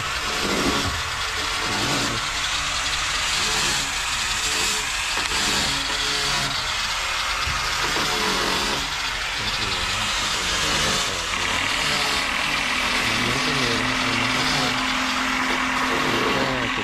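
A twin-engine fishing boat idles at a seaside fishing pier, its engines giving a steady, close, continuous rumble with slight wavering in pitch and no voices over it.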